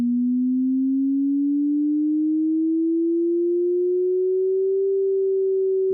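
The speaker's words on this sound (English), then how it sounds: "as it moves away from the middle, we'll hear it get higher in frequency" A pure sine tone sounds steadily and alone, gliding slowly and smoothly upward in pitch over six seconds as it moves away from the center of a canvas, with a faint regular pulsing in loudness.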